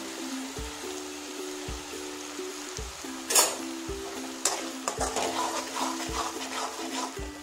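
Ground spice paste for veg biryani sautés in a pan after ginger-garlic paste, giving a soft sizzle with brief scraping stirs over a low, regularly pulsing hum.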